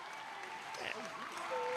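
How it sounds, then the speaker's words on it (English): A crowd at a high school boys volleyball match between Peters Township and Mt. Lebanon on senior recognition night breaks into applause, swelling toward the end beneath an announcer's voice. "And the crowd goes wild."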